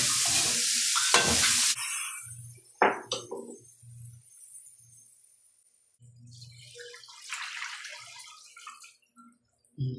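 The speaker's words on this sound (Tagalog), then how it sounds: "Ganisa." Mushrooms for pancit bihon sautéing in a pan: loud stirring scrapes and bursts of sizzling up close, with quieter gaps and a spell of hissing frying in the middle.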